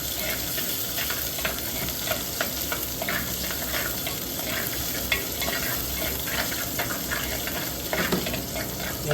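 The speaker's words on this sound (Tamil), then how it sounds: "நல்லா வதக்கிக்கோங்க வெங்காயம் சேர்த்து." Onions sizzle and fry in a pan for a Tamil mochaikai kulambu, a steady close crackle with occasional stirring scrapes and no talking.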